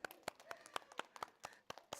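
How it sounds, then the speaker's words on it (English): About nine quick, crisp hand claps from children playing Simon Says at preschool story time, fairly quiet and evenly spaced. "Simon says, clap your hands."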